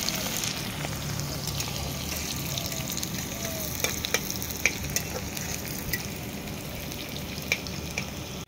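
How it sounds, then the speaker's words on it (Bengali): Chopped onions fry in a pan with a soft, continuous sizzle, broken by occasional sharper crackles and stirring taps, fairly quiet and close. "পেঁয়াজ কুচিটাকে আমি অল্প হালকা লাল রঙের করে"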